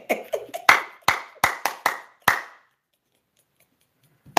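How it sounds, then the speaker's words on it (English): A few people clap for a mother figure at a home alphabet lesson in the Edo language, about eight sharp, separate claps in the first two and a half seconds, close by and uneven, then silence. "Everybody clap for Mommy Yore."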